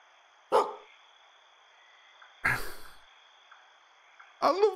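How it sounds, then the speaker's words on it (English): Dog barking in the video game Love Esquire; three separate short bursts spaced a couple of seconds apart, fairly loud over a quiet background tone. "I love the barking"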